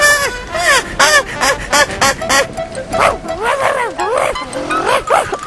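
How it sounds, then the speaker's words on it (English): A dog barks repeatedly in a horror game scene, a series of sharp yelping barks with whimpering tones, close and fairly loud, coming in quick bursts across the stretch. "it's your dog"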